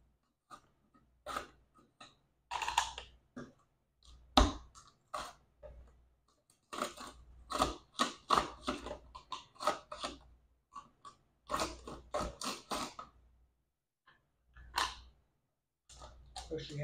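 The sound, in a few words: vegetable chopper 2 millimeter slicer cutting potatoes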